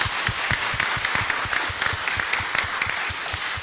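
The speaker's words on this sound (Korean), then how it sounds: "우리 다시 한번 박수하겠습니다." A church congregation claps together in a steady, rhythmic beat after a prayer, moderately loud and with no voices over it.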